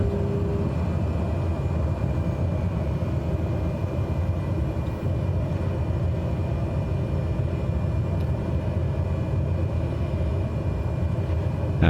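Small airplane in a flight simulator game, on approach for landing at a short airstrip with full flaps, a steady loud engine drone and rumble holding evenly throughout, with no talk.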